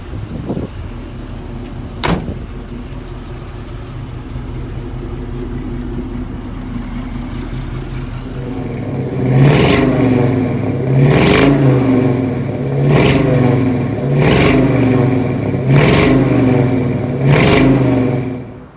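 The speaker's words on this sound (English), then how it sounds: "Go ahead and show you a little rev up video." A 1970 Chevrolet C-10 short-bed pickup with a Vortec V8 idles steadily with a brief blip near the start, then revs repeatedly in six evenly spaced, loud bursts that fall back to idle, close to the engine with no talk.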